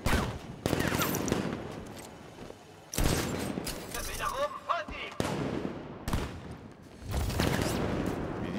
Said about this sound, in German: Wie die schießen.